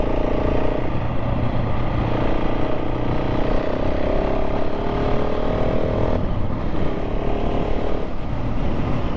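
A 2024 KTM 690 SMC R motorcycle ridden on a greasy, bumpy road under trees, the engine droning loud and near with wavering pitch as the throttle rolls on and off, constant wind rush beneath it.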